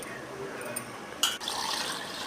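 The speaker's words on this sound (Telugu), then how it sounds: "చూడండి, 2 గ్లాసుల నీళ్ళు పోయాలి." Two glasses of water splash into a pot in a short rushing burst, then keep running steadily and quietly, with no talking.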